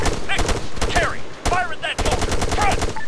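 Rapid rifle and machine-gun fire crackles in ArmA 3 infantry combat, dense sharp bursts close by, with a voice calling out between the volleys.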